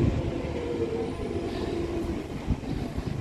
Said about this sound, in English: Hopefully the Central Line train.